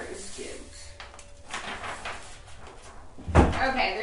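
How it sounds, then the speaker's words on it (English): The top drawer of a redesigned dresser with a botanical rose decor transfer slides and then bumps shut, a soft scrape followed by a louder close thud, with a voice faintly present. "I just wanted to check the top drawer, and that looks so good to me."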